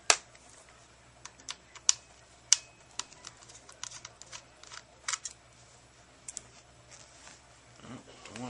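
Small screws are backed out of an Xbox 360 hard drive with a T9 screwdriver, giving sharp, scattered metallic clicks and ticks at irregular intervals, close and fairly quiet.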